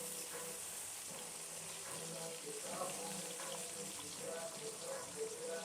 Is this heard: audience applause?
no